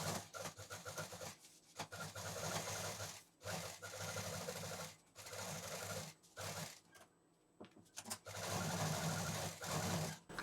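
A sewing machine runs in short bursts, stitching around the edge of a cloth potli pouch, its rapid needle rattle starting and stopping with brief pauses between runs, close and clear.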